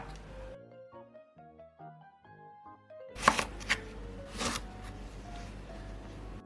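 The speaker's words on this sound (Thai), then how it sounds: "มะกรูดนี่เราผ่าครึ่งได้เลยนะครับ" A short plucked melody plays, then a few sharp crisp knife cuts halving kaffir limes land close together, followed by softer handling noises.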